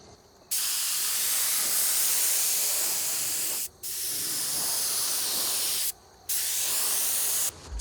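A spray gun lays a finish coat onto a custom mirror frame in three long bursts of loud, steady hiss, each cut by a brief pause.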